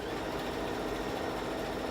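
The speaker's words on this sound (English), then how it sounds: "Someone asked, what model sewing machine is that? I'm going to show you now. This is my new baby. And it is a Brother F420." A Brother F420 sewing machine stitches with a steady, dense whirring hum that holds unbroken and even at moderate loudness throughout.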